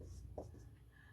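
Pen scratching on paper while a Class 10 triangle geometry problem is worked out, a faint, brief stroke in a quiet room.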